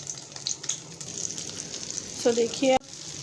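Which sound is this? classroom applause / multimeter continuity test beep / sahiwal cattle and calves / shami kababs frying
shami kababs frying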